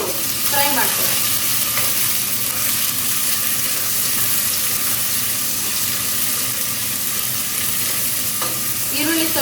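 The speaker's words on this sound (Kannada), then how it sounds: "ಪಲಾವ್ ಎಲೆ, ಈರುಳ್ಳಿ ಹಾಕೋದಿದ್ದೀನಿ. ಸೊ ಇದನ್ನು ಸ್ವಲ್ಪ ಹೊತ್ತು ಫ್ರೈ ಮಾಡ್ತೀನಿ." Onions and a bay leaf frying in a pan, a steady loud sizzle that runs throughout with a few soft stirring scrapes.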